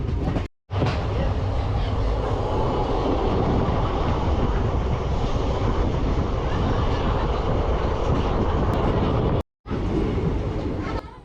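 The Kurnool–Guntur Express rumbles steadily along the rails with a loud, continuous clatter, cut by two brief moments of near silence, on its run toward Nandyal Junction.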